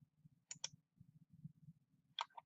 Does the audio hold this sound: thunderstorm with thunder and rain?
no